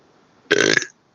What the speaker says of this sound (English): Okay, I can burp it out a little bit